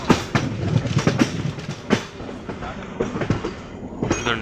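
A MEMU express train bound for Chennai rolls along the tracks between Nellore and Sullurpeta, its wheels beating a steady clickety-clack over the rail joints beneath a continuous rumbling ride noise, heard from on board.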